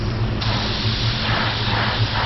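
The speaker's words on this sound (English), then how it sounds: "we're gonna go down to 7 psi, just like that, and we're gonna spray up here" A car's clear coat is sprayed from a spray gun at a reduced 7 psi, producing a loud, continuous close-up hiss that stays steady and broadband throughout, with no speech.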